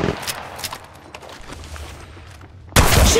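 Gunfire in the mobile battle royale game Apex Legends Mobile, a steady stream of small crackling shots and clatter for several seconds, then a sudden loud close burst near the end.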